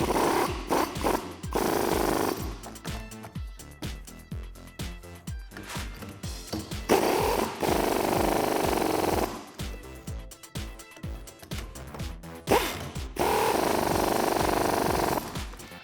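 Nylon locking nuts being run down onto a strut spacer with a 17mm deep socket on a ratchet or impact gun, for a MotoFab leveling kit on a 2004-2014 Ford F150, giving bursts of loud rapid rattling separated by short pauses.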